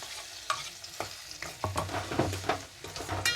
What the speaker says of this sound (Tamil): தக்காளி நல்லா வதக்கணும்.